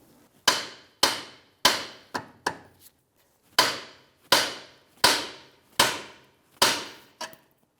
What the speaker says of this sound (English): you can always just give it a little tap right on that knuckle